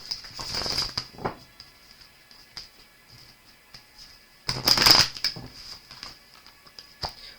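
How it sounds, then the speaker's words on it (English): Brisk papery riffling of a deck of wisdom cards, a burst at the start and a louder one midway, with light ticks and taps between them and no voices. "One more shuffle."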